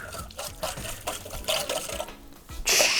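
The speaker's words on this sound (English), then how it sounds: "And now we can whisk it all together till it all tastes good." A whisk clinks and swishes quickly through a small bowl of bulgogi sauce made with soy sauce, sugar, garlic, sesame seeds, sesame oil and pepper, giving a close, busy, uneven liquid rattle.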